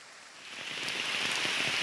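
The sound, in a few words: heavy rain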